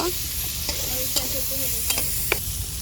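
Ingredients fry in oil with cumin, giving a steady close sizzle punctuated by a few soft clicks and scrapes of a spatula stirring in the pan.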